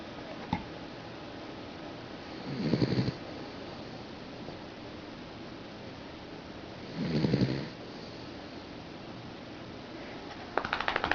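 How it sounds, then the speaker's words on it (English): A sleeping pet snores softly, two slow drawn-out snores spaced several seconds apart over a quiet background, with a faint click at the start and a rustle at the end. "She's snoring."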